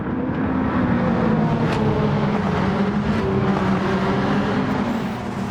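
Subaru Impreza WRX Gr.B race car in Gran Turismo 7 driven at full power, a loud steady engine drone with shifting harmonic pitch held throughout, no talk over it.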